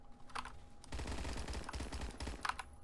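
Rapid automatic gunfire in the Roblox shooter Phantom Forces, a fast rattling string of shots running through the middle with a few sharper pops at either end, faint overall and mixed with clicky keyboard-like taps.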